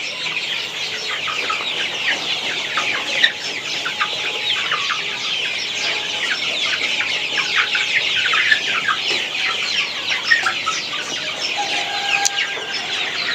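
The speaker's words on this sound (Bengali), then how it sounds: "এই যে দেখতে পাচ্ছেন আমার মুরগিগুলো আলহামদুলিল্লাহ খুবই ভালো আছে" A flock of Sonali hybrid chickens clucks and murmurs continuously nearby, many overlapping calls forming a busy, steady chatter.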